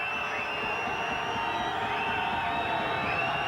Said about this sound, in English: Crowd doing their best to put him off.